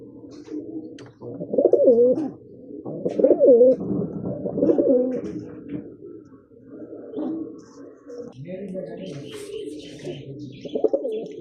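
Pigeons cooing on a rooftop, repeated soft throaty coos in bursts with short pauses, fairly near, with faint background noise.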